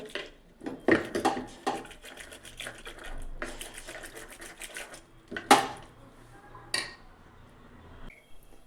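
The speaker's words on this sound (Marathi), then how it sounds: "आता ह्याला ह्या रवीने चांगलं घोटून घेते, म्हणजे ती सगळी एकजीव झाली पाहिजे।" A wooden churner (ravi) knocks and scrapes rapidly against a pot while mashing soft cooked chakwat greens with water, an irregular clattering rhythm of close wooden taps and rattles with a few sharper knocks.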